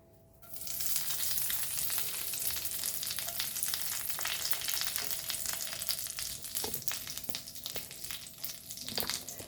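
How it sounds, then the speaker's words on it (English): Curry leaves dropped into a teaspoon of hot oil for a Goan milkfish curry, erupting into loud, steady sizzling and crackling that holds throughout, with a few clinks of stirring near the end. "Now I will add curry leaves."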